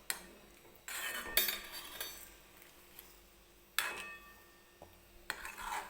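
A spoon stirs salt into curd tadka in a pan, making a few separate, faint scraping and clinking strokes against the metal with quiet pauses between them.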